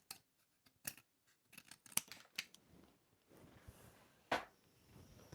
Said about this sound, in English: I can cut a little bit off the top.